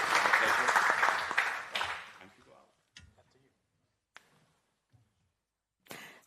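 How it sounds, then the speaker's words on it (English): After a panel talk at a food safety forum, an audience claps loudly for about two seconds and then tapers off, with a few scattered late claps in the quiet that follows. "Another round of applause, I think, for another very powerful solution talks."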